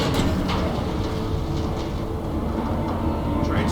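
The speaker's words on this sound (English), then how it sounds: "Train's ready." A train in the video game Batman: The Telltale Series rumbles loudly and continuously with a low mechanical roar and faint clatter, with no talk over it.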